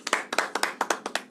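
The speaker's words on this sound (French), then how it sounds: "Ça s'applaudit." A few people clap in a short burst of brisk, uneven claps with no voices, cheering a web TV outlet's award during a French morning show.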